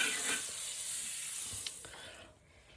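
Butter sizzles steadily in a pan over lowered gas heat for French toast, a close, continuous bright hiss with small crackles and no voices.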